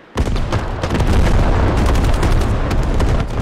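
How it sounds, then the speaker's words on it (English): Artillery fire in the video game Squad during a tournament finals match, with a sudden loud blast followed by a dense, sustained rumble of booming shelling and overlapping impacts, heavy and continuous with no voices. "Actually, no, I don't think this artillery is gonna kill anybody."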